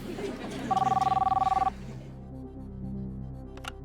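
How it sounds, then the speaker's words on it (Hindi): A single electronic telephone ring trills for about a second over steady background hum and talk on a TV quiz show set. "अयान मुखर्जी को फोन लगाया जाए"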